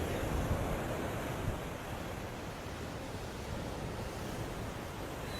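Sea waves crashing by a coastal road, a steady broad rush of surf with wind buffeting the microphone, no voices.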